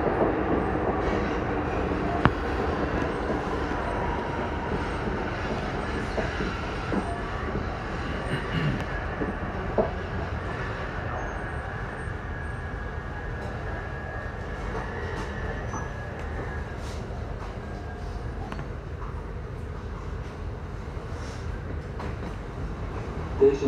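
Amsterdam metro line 52 on the North–South line heard from inside a moving train, a continuous rumbling ride with wheel and rail noise and faint squeals, steady throughout.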